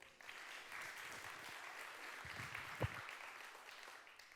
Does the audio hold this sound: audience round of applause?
yes